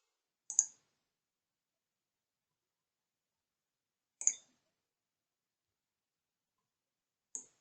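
Three faint, isolated mouse clicks in Image-Pro image analysis software, each a tiny crisp tick separated by several seconds of near silence, with nothing else audible.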